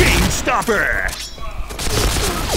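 Gunfire from a new Bomb gun in the game Point Blank, a dense rapid burst of shots with mechanical clicks and rattles, loud and close, running through most of the moment with some chatter mixed in.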